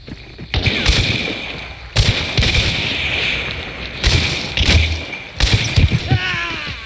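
Gunfire in the Hunt: Showdown video game, several heavy booming shots spaced a couple of seconds apart, loud and close, each with a ringing tail.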